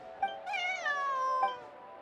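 A single cat from Genshin Impact gives one clear, drawn-out meow that rises and then slides down over about a second, close and alone against a quiet background.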